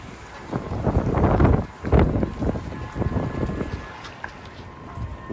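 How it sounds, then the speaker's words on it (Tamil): Strong, cold wind gusting through a Moscow street in winter roars across the microphone in loud, uneven buffets that swell and ease over several seconds, with no voices. "பயங்கர காற்றுங்க இந்த குளிரோட காற்றடிச்சாலே ரொம்ப கஷ்டமாக இருக்கும் பாருங்கள் அந்த காற்று சவுண்டு எப்படி இருக்குன்னு பாருங்கள்"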